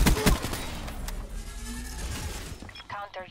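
Gunfire in Black Ops 3 online multiplayer, a few sharp close shots and shattering impacts early on, followed by quieter game sounds while a player talks over it.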